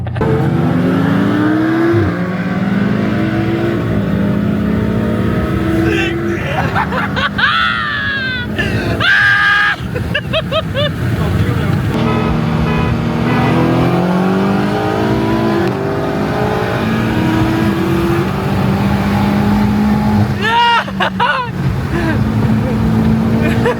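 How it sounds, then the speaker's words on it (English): Race cars accelerate and rev hard in a street race against an Audi R8, the engine roar continuous and loud throughout, with people shouting and talking over it. "So now we're gonna race against R8 and inshallah we'll win."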